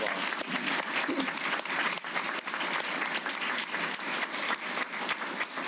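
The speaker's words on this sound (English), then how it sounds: "Let's give him one more round of applause." Sustained audience applause at a Hall of Fame ceremony, a dense, even wash of many hands clapping that holds steady throughout with no speech over it.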